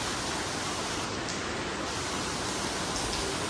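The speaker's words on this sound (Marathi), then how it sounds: "पाऊस खूप पडतोय" Heavy rain pours down at Murdeshwar in a dense, unbroken hiss that stays steady and loud throughout, with no voices.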